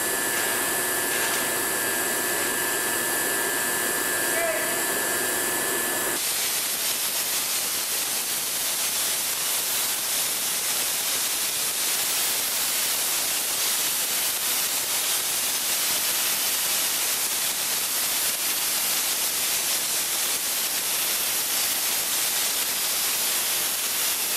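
An abrasive blasting machine feeds reclaimed, recycled media onto a chiller during cleaning, a loud continuous roaring hiss that holds steady after a brief quieter start.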